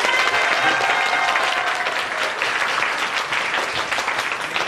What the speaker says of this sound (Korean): 그럼 연습삼아 한번 10배 정도 크게 박수 한번 부탁드리겠습니다.